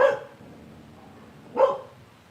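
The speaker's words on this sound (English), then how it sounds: "What's he barking at now?" Two sharp dog barks, one at the start and another about a second and a half later, moderately close against a quiet background.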